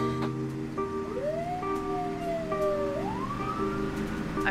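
Ambulance siren wailing nearby, one long tone that rises and falls in slow sweeps over the constant drone of traffic, with no voices.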